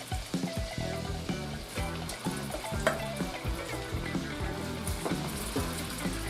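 Shrimp frying in a pan of sauce for shrimp pasta, a steady close bubbling sizzle with soft irregular pops and faint clatter throughout.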